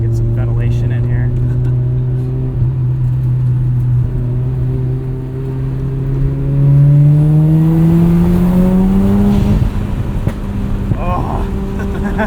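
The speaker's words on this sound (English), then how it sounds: "You can't beat the turbo noises" Turbocharged engine of a 1994 Mazda RX-7 pulling while driving, a steady close drone that climbs in pitch through acceleration with a whooshing turbo tone, then drops off near the end; a voice speaks briefly over it.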